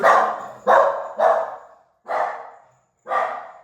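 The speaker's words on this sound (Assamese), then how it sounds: "কুকুৰটো কোনোবা আহিছে মানে সেইকাৰণে ভুকিলে আচলতে" A dog barks five times in an uneven rhythm, loud and close, with short silences between the barks.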